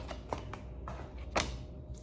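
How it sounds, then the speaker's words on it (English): Mystic Mondays tarot cards are shuffled by hand, giving several soft, papery riffles and flicks at an uneven pace, close by and fairly quiet. "Let's just shuffle the tarot cards out before oracle cards,"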